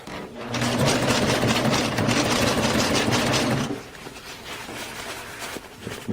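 A sewing machine stitches tarp material with a fast, steady mechanical whirr for about three and a half seconds, then stops, leaving quiet handling noises and faint clicks.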